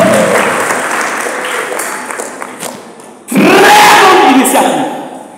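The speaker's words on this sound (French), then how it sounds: "Je voulais que vous acclamez la paroisse." A church congregation breaks into loud, sustained applause for the parish, a dense wash of clapping that fades slightly before surging again, with a voice speaking over it.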